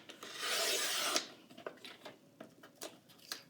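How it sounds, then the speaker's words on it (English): Paper trimmer blade slides along a scrapbook layout piece to cut off a paper tab, one smooth rasping stroke lasting about a second, followed by a few soft clicks and taps of paper being handled close by. "I'm going to put it in here and trim the tab off the bottom there"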